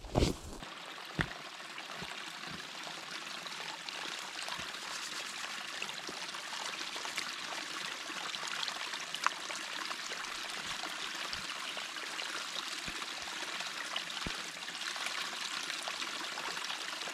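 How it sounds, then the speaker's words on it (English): Creek water streams steadily through a wild outdoor setting, a continuous broadband wash of flowing water with a few small splashes, moderately close and heard alone without talk. "I'll just go to the creek."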